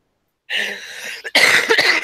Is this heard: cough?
yes